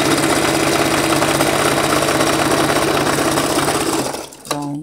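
Sewing machine stitching fabric while a cloth strip is attached to a diaper: a loud, steady, rapid mechanical whir that runs continuously, then slows and stops near the end with a few clicks.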